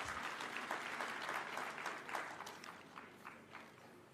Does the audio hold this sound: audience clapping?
yes